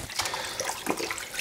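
Shaving brush loaded with a Martin de Candre Fougère shaving soap being rinsed in water, giving a steady close splashing and trickling wash with no talk.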